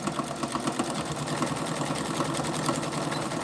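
A home sewing machine stitches the last section of a fabric piece, its steady rapid motor whir and needle chatter running continuously and close throughout.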